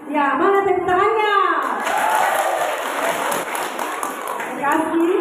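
Audience clapping breaks out at an Easter church service and continues steadily as an announcer speaks over it through a microphone.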